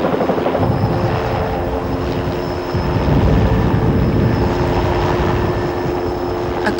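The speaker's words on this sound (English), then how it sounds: "called in the services of an army helicopter today to safely airlift the remains from this exposed" Army helicopter airlifting a whale skeleton from an exposed position, loud steady rotor thumping and engine drone close by throughout, swelling slightly midway.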